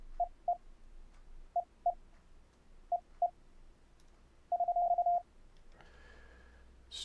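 Morse code tones sent over the internet through Mumble: short paired beeps repeat in small groups, then one longer buzzing burst of keyed tone, clean and isolated, ending in a brief noisy rush.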